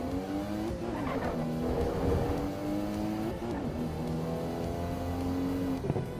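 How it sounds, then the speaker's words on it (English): A Toyota Supra engine in a racing video game drones steadily with rising and falling revs, gear shifts and brief tire squeal, loud and continuous throughout. "This sounds nothing like a Supra."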